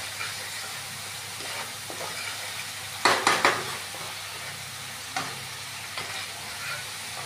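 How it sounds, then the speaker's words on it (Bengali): Masala spice paste fries in a pan for pabda fish curry, with a steady soft sizzle and a few sharper stirring scrapes and clatters along the way. "এখানে আমাদের মশলাটা দেখুন কিরকম ভাবে ভাজা হয়ে গেছে"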